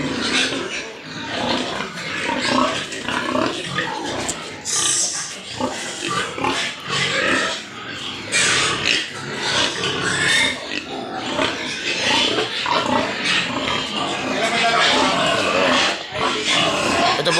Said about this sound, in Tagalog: Malaki na yung baboy, panlabas.